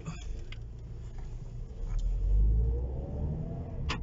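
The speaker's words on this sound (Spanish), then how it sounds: "incluso con el modo normal tiene un sonido muy bonito este motor" Lancia Delta GT-Line Turbo engine running while driving in normal mode, a steady low rumble that swells around the middle as the car pulls, with light ticks and road noise.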